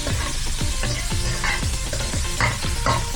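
Onion, garlic and meat sautéing in a pan for a Filipino Ilocos kalyente dish, with a steady loud sizzle and repeated stirring scrapes at a regular rhythm, close up and without talk.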